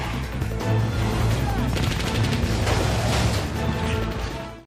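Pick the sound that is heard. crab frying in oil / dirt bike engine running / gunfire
gunfire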